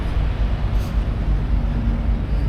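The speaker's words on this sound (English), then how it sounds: "after a while on the road you kind of get used to hearing the idling trucks" Steady low rumble of idling trucks, constant and unbroken, with a dull mechanical drone filling the background.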